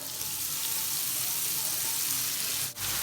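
Radish leaves hitting hot oil and frying spices in a pan, a loud, steady, dense sizzle that holds evenly throughout, close up, with one brief dip near the end and no voices.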